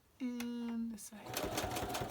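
Sewing machine stitching fabric, a short steady motor whir followed by a rapid mechanical needle clatter, close and fairly quiet.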